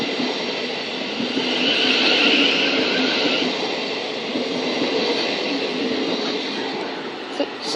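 A train runs through East Croydon station on the Brighton Main Line with a steady rumbling roar and the hiss of wheels on rails. It holds at a loud, close level for several seconds, with no talk heard over it.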